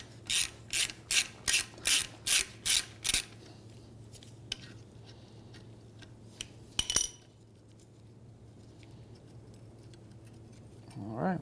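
Ratchet wrench loosening a 10 mm bolt on a strut bracket of a 2005 Honda Element, a row of about eight sharp, evenly spaced clicking bursts up close, then quiet handling with a metallic clink.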